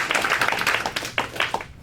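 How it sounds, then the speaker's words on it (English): An audience claps in a round of applause at a live SAG/AFTRA talk, a dense, steady patter of many hands that thins and breaks into a few scattered claps near the end. "That deserves another round of applause."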